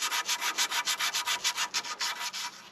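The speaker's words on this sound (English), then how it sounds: "I'm even going to sand the bottom" Sanding the bottom of a Silver Bullet blade tip for power poles by hand, a steady rhythmic back-and-forth scratchy rubbing, close and alone, about a dozen strokes.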